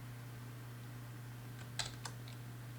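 A few quick, faint key taps on a computer keyboard sound over a low, steady fan hum in a quiet room.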